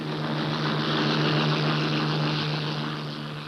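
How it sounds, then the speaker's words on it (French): A Luftwaffe propeller aircraft drones loudly as it takes off, its engine a steady sustained roar that swells and then eases slightly toward the end. "les rares survivants de la Luftwaffe décollent pour une dernière mission à 1 contre 10"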